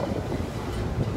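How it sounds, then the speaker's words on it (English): Wind buffets a microphone aboard the Staten Island Ferry, a steady low rumbling roar with no clear voices. "Wind, please cooperate."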